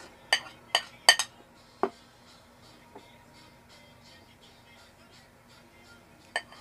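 Several sharp metallic clinks of utensils against a bowl while onion, lemon and mayonnaise are mixed for sisig suso, with a few spaced taps trailing off into quiet.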